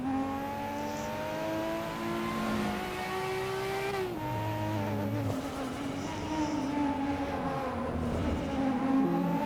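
Nissan Skyline R34 GTR engine in the Assetto Corsa racing game, revving up and down through gear changes with a steady drone throughout, fairly loud and continuous with no talk.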